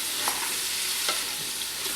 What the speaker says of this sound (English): We're going to just mix these around, get some of that bacon grease on everything.